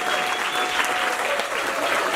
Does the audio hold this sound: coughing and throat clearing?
no